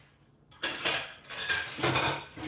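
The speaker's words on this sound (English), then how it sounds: "I pick my pot clean like that." A metal utensil scrapes and clatters around a cooking pot after a meal, several loud, close strokes in uneven bursts, with no voices.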